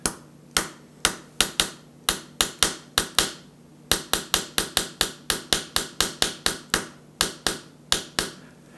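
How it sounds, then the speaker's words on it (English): Sharp, dry finger taps beating out the rhythm of Row, Row, Row Your Boat on a hard surface, about two dozen crisp hits in phrased groups with brief pauses, close and clear, no voice. "I'll tap it out, I won't sing"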